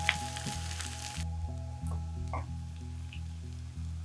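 Pumpkin, onion and garlic fry in a pan with a soft, steady sizzle and occasional small pops and stirring clicks, faint and close, under a low continuous hum, with no talk.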